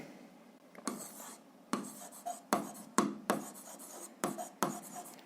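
Handwritten notes for a Ukrainian seventh-grade physics exercise: a pen scratching across paper in short, close, quiet bursts separated by brief pauses, with no voices.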